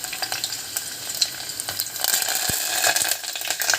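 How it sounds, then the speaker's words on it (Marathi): Garlic sizzles and fries in hot oil in a pan while amti curry is being started, a steady crackling hiss with scattered pops and some stirring clatter, close and alone. "गरम झालेलं आहे आणि आता आपण लसूण टाकूया आणि त्याच्यानंतर टाकू आपण कढीपत्ता."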